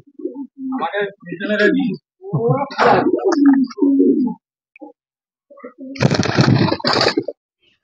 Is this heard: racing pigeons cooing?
yes